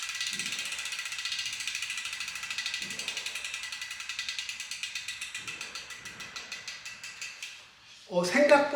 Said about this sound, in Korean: 이 허브 안에서 나오는 그 라쳇 소리를